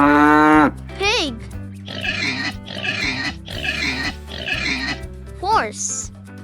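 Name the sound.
pig oinking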